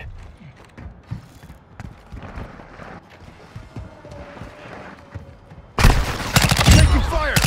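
Gunfire and battle noise from the multiplayer video game Call of Duty Modern Warfare 2, with scattered shots and clatter that swell into a loud, dense burst of rapid fire near the end, mixed with game voice callouts.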